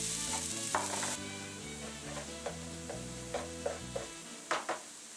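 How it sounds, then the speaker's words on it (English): Onions and red peppers frying in vegetable oil in a hot pan, with a steady sizzle broken by several sharp scraping and clicking stirs, close up and without talking. "Now get yourself a hot pan going with a little bit of vegetable oil and add your onions and red peppers."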